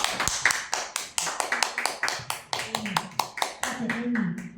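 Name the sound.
audience applause welcoming Alison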